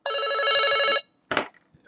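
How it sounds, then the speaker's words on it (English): A telephone rings loudly in one sustained electronic bell burst of about a second, followed by a shorter second ring that cuts off. "I'm trying to hang up my phone here so it's not interfering"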